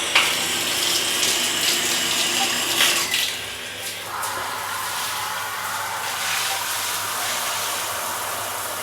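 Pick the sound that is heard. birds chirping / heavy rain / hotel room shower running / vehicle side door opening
hotel room shower running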